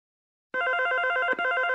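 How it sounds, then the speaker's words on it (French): A telephone bell starts abruptly out of silence and rings on continuously with a bright, buzzing metallic tone and a brief hitch partway through. "Sois gentille, ma chérie, réponds au téléphone."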